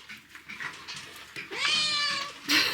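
A farm cat meows at morning feeding time in winter, giving a couple of close, clear cries after some quiet shuffling.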